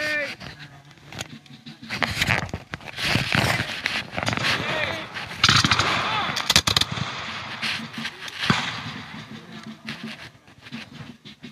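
Musket and rifle volleys crackle through a Revolutionary War battle reenactment at Guilford Courthouse, with repeated sharp bursts and ragged firing over nearly twelve seconds, mixed with crowd noise and voices in the background.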